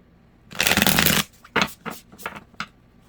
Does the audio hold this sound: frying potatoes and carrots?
no